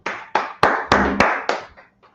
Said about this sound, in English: All right, clap it up for the class.